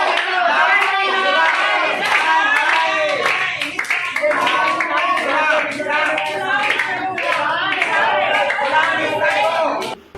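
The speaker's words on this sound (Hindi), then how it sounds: "बाद में ये किन्नर कलेक्टर कार्यालय भी पहुंचे और तालियां ठोकते हुए हंगामा किया।" Transgender protesters clap rhythmically at a protest outside a collector's office, loud and continuous, mixed with crowd chatter and shouting voices throughout.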